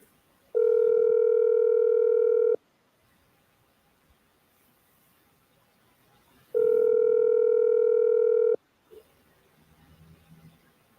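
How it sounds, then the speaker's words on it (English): A telephone rings during a radio prank call: two long electronic rings about two seconds each, separated by a gap, loud and clear over near silence, with a brief click after. "Your phone ringing, Tommy."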